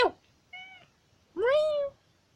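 A house cat meows twice indoors, a short clear call followed by a louder, longer one, with quiet pauses between and no speech.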